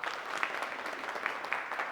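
An audience claps together for students who have just spoken in a classroom gathering, a steady dense patter of many hands, fairly close, without talk.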